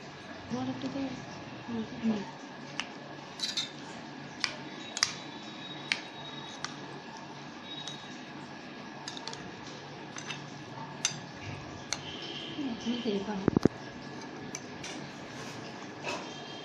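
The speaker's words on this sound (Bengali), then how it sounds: "দই এবং চিরা আমি একসঙ্গে এখন মিক্স করে নেব।" A spoon stirs yogurt and flattened rice (doi chira) in a bowl, giving scattered light clinks and ticks against the dish and a soft wet squish, close by and fairly quiet, with a few louder scrapes near the end.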